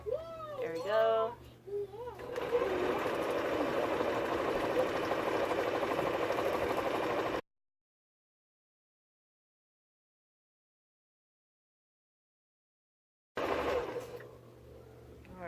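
A sewing machine stitches a glitter quilt in a steady, close whirring run lasting several seconds after a brief voice, then cuts to silence before resuming.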